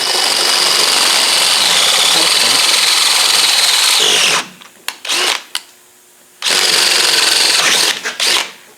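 A power drill bores into a Land Rover differential housing while an Ashcroft air locker is being fitted, grinding loudly and steadily for about four seconds, then breaking into short bursts with brief pauses before another sustained run.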